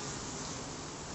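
Bees drone steadily inside a top bar barrel hive three weeks after installation, a dense, continuous close buzz with no voices over it.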